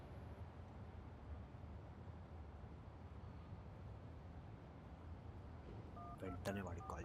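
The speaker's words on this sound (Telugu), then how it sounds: "వెంటనే వాడికి కాల్ చేశాను." A telephone being dialed in a Telugu short film: a short run of electronic keypad beeps near the end, heard over a low steady background hum.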